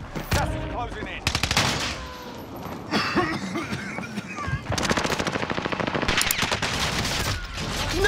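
Call of Duty: Warzone gunfire rattles in sustained, rapid automatic bursts, loud and close, with brief pauses between strings of shots and a few sharper impacts mixed in.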